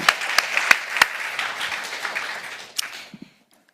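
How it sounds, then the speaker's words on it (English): Applause from an audience at a high-level international climate adaptation event, a steady wash of clapping with a few sharp louder claps near the start, fading out toward the end. "please join me with a big applause for His Excellency Ali Mohammed."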